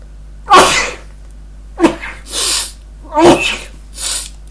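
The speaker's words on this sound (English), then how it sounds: "Sorry, big sneeze." A person lets out a big, close sneeze, followed by several sharp sniffs and breathy snorts in quick succession.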